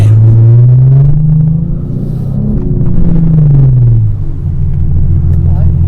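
A V12 engine in an Aston Martin V12 Vanquish rumbles loudly and close while driving, its low drone rising and falling in pitch as the car moves.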